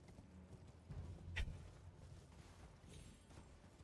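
Horse hooves clip-clopping in Elden Ring, a faint steady trot with one sharper thud partway through, set against a low background.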